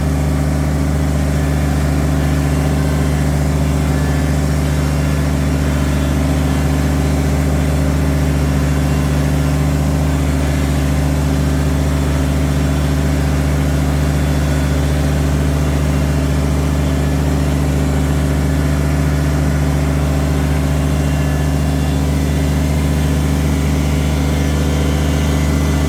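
A Kubota tractor engine drones steadily and loudly while driving through a forest, a constant low mechanical rumble with no pauses or voices.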